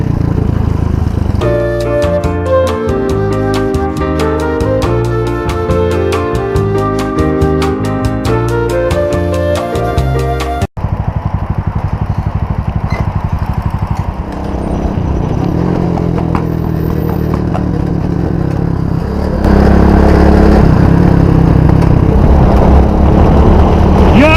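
A cafe racer motorcycle rides in traffic; its engine runs as a steady, loud broadband rumble for the second half of the clip, after a stretch of music at the start.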